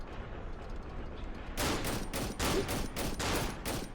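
Rapid bursts of gunfire in the horror game Cry of Fear start after a quiet opening, about seven loud, evenly spaced shots ringing close and alone.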